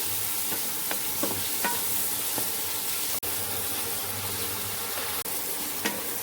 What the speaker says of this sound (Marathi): टमाटे पण ना आपण आता परतून घेऊया चांगले